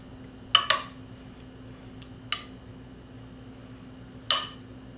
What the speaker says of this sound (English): Mix that cheese up in there.